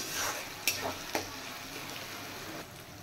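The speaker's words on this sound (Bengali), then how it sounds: "এবার এই মশলাটা একটু ভালো করে ভেজে নেব" Onion and garlic paste spice mix fries and is stirred in a pan, giving a soft, steady sizzle broken by a few sharp clicks of a utensil, with no talking.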